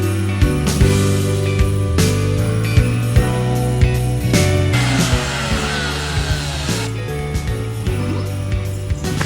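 A CNC router running an 1/8 inch compression bit through plywood, a loud steady whine with a low hum below it and frequent short knocks and clicks as the bit moves through the cut.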